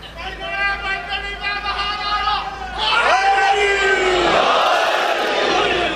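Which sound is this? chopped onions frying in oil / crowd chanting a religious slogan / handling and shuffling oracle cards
crowd chanting a religious slogan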